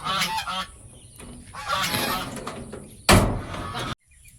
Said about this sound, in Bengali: হাঁস ছাগল বের করতে যাচ্ছি